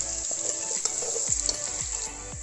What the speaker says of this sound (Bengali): আমার পেঁয়াজগুলা মশলাগুলো আর কি ভাজা হয়ে গেছে